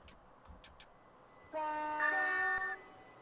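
A London Overground train departing Kentish Town West on the North London Line sounds its horn in a steady harmonic chord for about a second over low rumbling background noise, followed by a fading rail hum.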